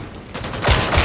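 Rapid automatic gunfire erupts in the Warhammer 40k Darktide video game, a loud, dense burst of close shots that starts abruptly after a brief quiet moment.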